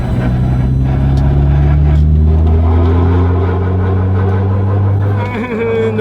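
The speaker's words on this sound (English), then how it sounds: "It's still scraping really bad back there." Loud, steady engine drone of a Mazda RX7 cruising on the road, with a continuous low hum and rising tone; any scraping from the rear tire rubbing the body is buried under the engine and road noise.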